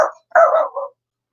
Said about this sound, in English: I will apologize for the beast barking in the background